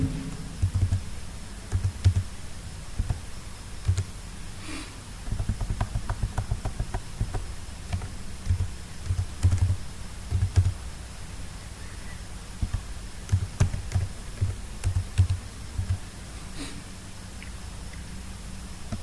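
Steady clicking keystrokes on a computer keyboard as code is typed, close and continuous in irregular runs with brief pauses, with no speech.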